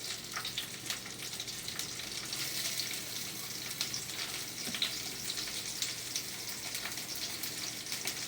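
Fish frying in oil in a kadai, a steady, even sizzle that holds throughout with small crackles, moderately quiet and close, without talk.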